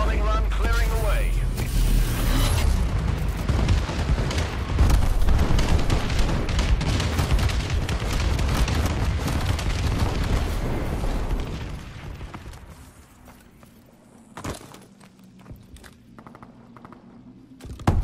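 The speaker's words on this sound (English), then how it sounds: "Friendly bombing run clearing the way." Bombing run explosions in the video game Call of Duty Advanced Warfare: a loud, dense barrage of booms and rumbling blasts over about twelve seconds, then thinning to a few scattered distant thumps.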